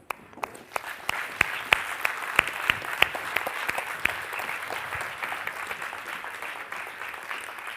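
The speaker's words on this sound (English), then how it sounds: "please join me to another round of applause to all our speakers and artists for their amazing performances and talks" Steady applause from a conference audience at an event on emotions, honoring speakers and performing artists: dense, even clapping from many hands, with a few sharp, close claps standing out early before it settles into a continuous wash.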